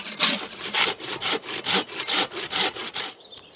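A Silky pruning saw cuts through wood up close, with about nine quick, even back-and-forth rasping strokes that stop abruptly, followed by a faint tap.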